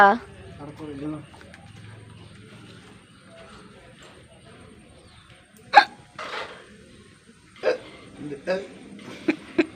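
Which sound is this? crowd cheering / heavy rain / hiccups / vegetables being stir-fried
hiccups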